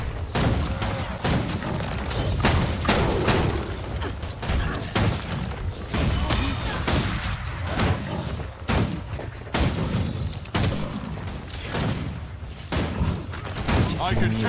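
Steady shooting at a veteran enemy in Guild Wars 2, a continuous run of thumping shots and booms with mortar fire, heard under someone talking.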